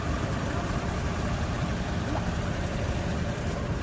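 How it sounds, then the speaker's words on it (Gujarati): Idling car engines in a traffic jam on the road into Veraval give a steady, low, even rumble throughout, with no distinct events and no speech. "ટ્રાફિકમાં આપણે અત્યારે ઊભા છે. અવાજ આવે કે ન આવે, એ બહુ બધી ટ્રાફિક થઈ ગઈ છે."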